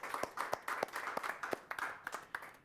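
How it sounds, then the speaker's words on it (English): A small group gives a leadership race candidate a brief round of applause, with distinct, fairly quiet individual claps in a loose uneven rhythm. "let's give him a bit of a round of applause"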